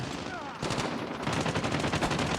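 Rapid bursts of automatic gunfire from the Call of Duty Mobile video game, fought in a 10 v 10 match on the Shipment map, crackle loudly and continuously as dense repeated shots with no pauses.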